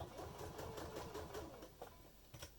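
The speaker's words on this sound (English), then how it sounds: "just stitch right the way across, and just go backwards and forwards over that seam just to reinforce it" Sewing machine stitching back and forth across the bottom seam of a fabric make-up bag, a steady close mechanical whirr with rhythmic needle pulses, briefly pausing near the end.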